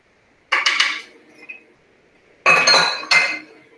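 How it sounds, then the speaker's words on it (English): A spoon stirring pork chops and potatoes coated in oil, cider vinegar and ranch dressing in a slow cooker. Two bursts of clinking metal scraping against the crock come close up, separated by a near-silent gap. "we're going to take a spoon and try to get everything coated really well with that dressing mixture"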